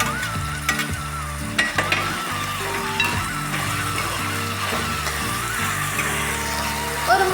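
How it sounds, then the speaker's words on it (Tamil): Tomatoes and mixed vegetables sauté in a pan for vegetable kichadi, giving a steady close sizzle with repeated scraping and stirring knocks throughout, no voices over it. "ஒரு 3 நிமிஷம் இந்த மாதிரி வதங்கட்டும்."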